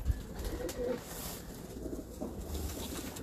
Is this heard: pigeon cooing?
yes